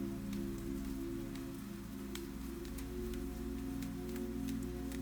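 Rain falls on a roof above, a constant quiet patter with scattered sharper drops over a low steady drone, no voices present.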